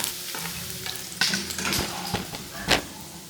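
Paneer pieces frying in hot oil in a pan, a soft continuous sizzle with occasional stirring scrapes and clinks, close and moderately quiet, no talking.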